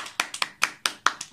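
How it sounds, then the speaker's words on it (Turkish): Hands clap in quick applause, five or six sharp, close claps in an uneven rhythm over just over a second, with no voices heard. "Alkışlayın."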